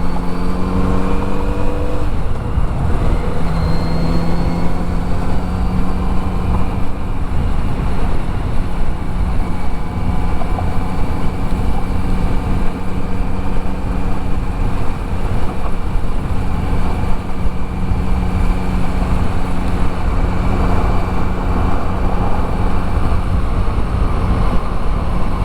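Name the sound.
Kawasaki Z900RS motorcycle engine and exhaust while riding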